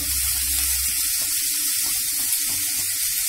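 Roasted eggplant side dish mixture sautés in a pan with a steady, broadband sizzling hiss, close and even, with faint low clatter early on.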